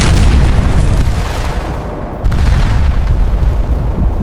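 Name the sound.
mid-air plane collision explosion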